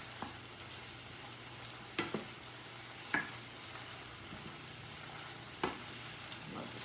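Carrots sautéing in a saute pan for chicken pot pie give off a soft, constant sizzle, broken now and then by a few faint clicks and scrapes of stirring, quiet and fairly distant.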